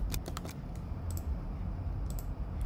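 Someone types steadily on a computer keyboard, quick clustered key clicks at close range, with faint room noise beneath and no talking.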